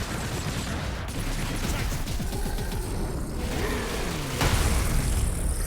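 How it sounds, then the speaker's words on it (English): Gunfire in Warhammer 40K: Space Marine combat against orcs, dense rattling shots mixed with mechanical clanks and a heavier blast near the end, steady and loud throughout. "Miss me with that gunfire."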